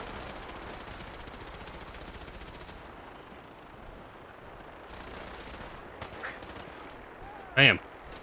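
Gunfire in the video game Fallout 4, with a sustained burst of rapid automatic fire followed by a pause, then further bursts and a single louder shot near the end.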